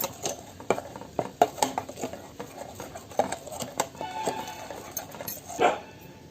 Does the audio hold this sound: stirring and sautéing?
yes